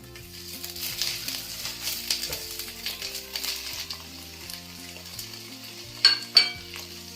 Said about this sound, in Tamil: மிக்ஸ் பண்ணி நல்லா ஒரு 5 நிமிஷம் நல்லா வதங்க போடலாம்